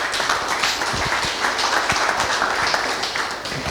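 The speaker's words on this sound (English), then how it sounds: "Ladies and gentlemen, a big warm round of applause as he makes his way down for Rob from Zing Cover." An audience at a fintech pitch night applauds as a presenter walks down to the stage, a steady wash of clapping that holds for a few seconds.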